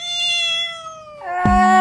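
Thumbi, a pet cat, gives a long, drawn-out meow close by, followed at once by a second, sharper meow that rises into a louder cry.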